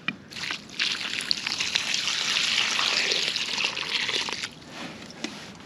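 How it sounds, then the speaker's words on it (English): Water poured from a container into a half-filled planting hole around a young bur oak tree outdoors, a steady close trickling and sloshing gush lasting several seconds before tapering off. "Then add a good amount of water."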